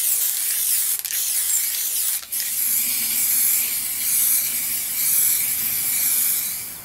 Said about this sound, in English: So now we can get spraying.